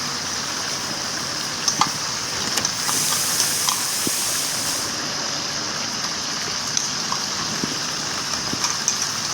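Ginger-garlic paste sizzles and fries in a pot while being stirred for a home-style duck meat curry, a steady loud hiss with faint scraping ticks of the spoon, close up and without talk.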